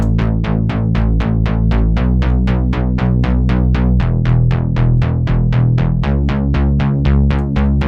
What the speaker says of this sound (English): So this is the main sound of the bass. It's a very synthy analog type bass.